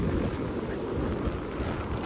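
Strong wind sweeping a Recife beach, a dense, steady roar pressing hard against the microphone with no voices over it.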